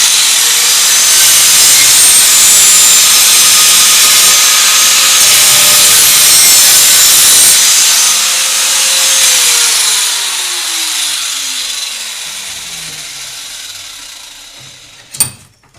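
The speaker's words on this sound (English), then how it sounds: "it's nice just to go across the back, just a couple swipes. No pressure." A file rasps in rhythmic, close strokes across a lawnmower mulching blade, a loud scraping that gradually eases and fades near the end, followed by a short sharp clank.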